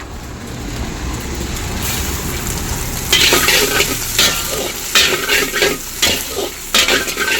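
Cabbage being stir-fried in a pan for chicken fried rice, a steady loud sizzle with repeated scraping and tossing bursts of a spatula against the metal, continuous and close with no talking.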